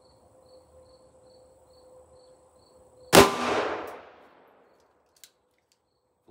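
A single sharp .38 Special gunshot from a 2-inch-barrel Rossi revolver firing a 125-grain Hornady XTP load into a ballistic gel block cracks loudly mid-clip and trails off in a short echo, with a faint electronic whine and insect-like chirping around it.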